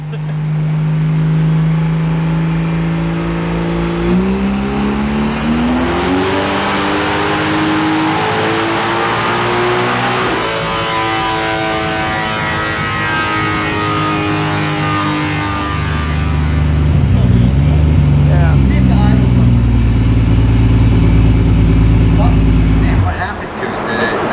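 A turbocharged Vortec 4200 inline-six making over 700 horsepower revs up and settles back repeatedly, loud and close, its pitch climbing and falling through long sustained pulls.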